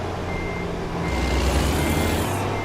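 Heavy truck engine rumbling steadily in American Truck Simulator with a reversing alarm beeping, rising slightly louder midway, fairly close and continuous with no talk.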